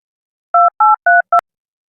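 A telephone keypad dials a number: four crisp, loud dual-tone beeps in quick succession, the last one shorter and ending in a click, with silence before and after.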